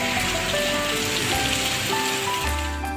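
Rain falling in Karachi, a steady, dense patter of drops on surfaces filling the scene, with faint tonal background noise underneath.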